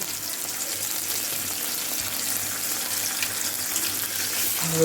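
Ginger garlic paste fries in a pan for a homestyle tilapia curry with beans, radish, potato and tomato, giving a continuous even hiss of hot oil that stays close and fairly loud throughout, with no talking.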